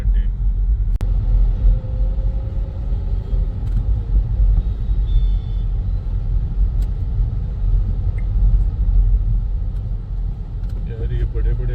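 Big vehicles rumbling along a narrow road in the evening, a loud continuous low engine drone that is close and steady throughout, with someone talking over it.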